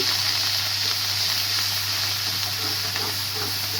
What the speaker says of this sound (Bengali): বাটা মশলাটা একটু ভালো করে ভেজে নিচ্ছি যেন কাঁচা গন্ধটা না থাকে